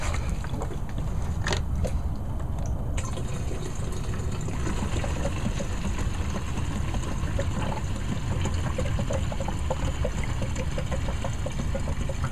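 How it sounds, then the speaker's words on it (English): Gasoline pours steadily into a fuel can while it is topped up toward one gallon for a two-stroke mix, a continuous soft trickle and gurgle at close range with no talking. "pull your cap off on the fuel can, and then top her off."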